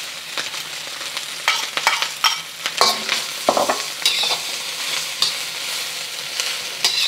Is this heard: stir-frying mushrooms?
yes